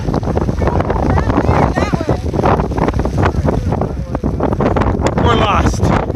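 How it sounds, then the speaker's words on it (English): Gusty wind buffets a hiker on a cold, bald Appalachian mountaintop, loud roaring blasts striking the microphone while voices talk through it. "it's cold, it's windy, and it sucks."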